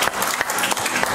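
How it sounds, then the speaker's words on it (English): A church congregation gives a loud burst of hand clapping during a Sunday worship service, dense and steady with a few sharper accents throughout. "Give the Lord a big hand clap this morning"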